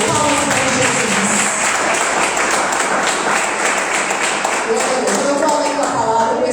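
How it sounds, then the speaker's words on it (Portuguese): A church congregation at an evening worship service clapping together in praise, a loud, dense, continuous wash of applause from many hands with no break. "Palmas para Jesus"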